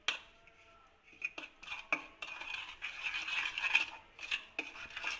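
Spices being mixed into a chicken marinade in a bowl for chicken pakora: intermittent scraping, clinking stirring strokes of moderate loudness, with short pauses between them.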